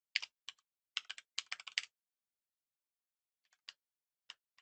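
Keys clack on a computer keyboard as code is typed: a quick burst of close, crisp keystrokes, a pause, then a few scattered taps, with no talking.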